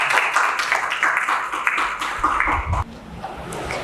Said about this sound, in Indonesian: Beri tepuk tangan untuk Zalfa